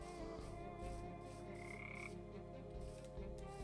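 A frog from the Ribbits mod croaks in modded Minecraft, repeated low croaks over a steady backdrop of game music with no talking.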